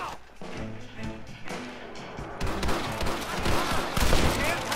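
Gunfire in a shootout in the video game Red Dead Redemption, with rapid, dense bursts of shots that grow heavier over the second half, mixed with voices.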